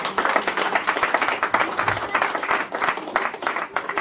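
A wedding congregation claps loudly for several seconds, hands close by and uneven in rhythm, with some cheering voices mixed in.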